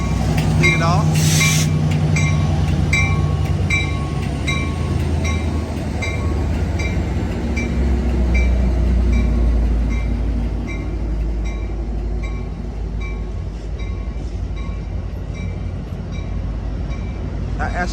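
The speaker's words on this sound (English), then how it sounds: "Amtrak 547 Capital Corridor train." Amtrak Capital Corridor train 547 led by a 2004 F59PHI locomotive arriving at Oakland Jack London Square, a loud close rumble and rolling wheel noise with a brief high horn or bell burst early and someone talking throughout.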